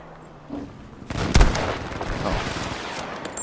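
Gunfire in the video game Battlefield V: a sharp, loud shot with a booming crack and echoing tail, followed by a rumbling battlefield wash and another burst at the end; no one talks.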